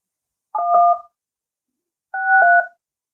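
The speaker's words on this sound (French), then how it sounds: "c'est bon, je peux composer." Two short bursts of telephone keypad tones as a number is dialed, each dual-tone beep about half a second long, clear and close, separated by silence.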